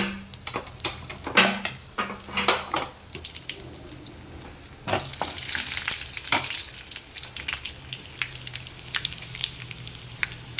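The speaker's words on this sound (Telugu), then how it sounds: "వేయించుకోవాలి ఫస్ట్ ఎండుమిర్చి వేస్తున్నాను" Dry red chillies frying in hot oil for a roti pachadi, a steady close sizzle with a few sharp clinks of a spoon against the pan early on, no speech over it.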